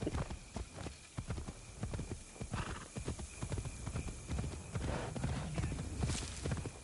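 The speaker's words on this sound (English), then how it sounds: "I said I was going to call my horse" Hooves clip-clop in a steady galloping rhythm from a summoned horse in Assassin's Creed Shadows, close and loud, with a brief whinny mixed in over a busy game backdrop.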